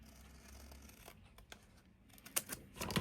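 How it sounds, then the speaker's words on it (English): Scissors cut a V into folded paper: quiet rustling and handling, then several crisp snips near the end, close and soft. "you take and you cut your little V"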